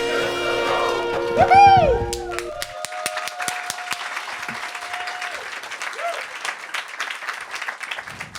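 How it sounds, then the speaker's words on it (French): An audience at a live show breaks into applause, starting as dense clapping mixed with whoops and a brief whistling tone, then thinning to scattered claps that fade out. "Je trouve ça fou comment c'est facile de partir des applaudissements."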